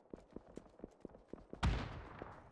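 Gunfire in the battle royale game PUBG during an esports league final: a steady series of quieter distant shots, then a single louder close blast with a ringing tail.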